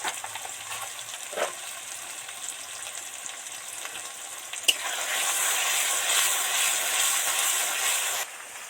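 Spice paste frying in a pan of oil, the oil bubbling up around it: a steady broad sizzle that swells louder midway, with a few stirring scrapes and a brief knock, then drops off abruptly near the end.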